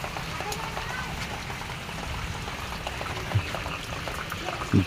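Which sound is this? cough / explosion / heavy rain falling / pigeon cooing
heavy rain falling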